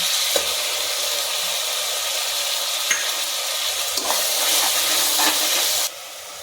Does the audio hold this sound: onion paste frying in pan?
yes